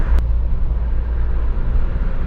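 A car cruises down a smooth highway at night at about 60 km/h, a steady low road-and-engine rumble filling the cabin, with one brief sharp tick near the start.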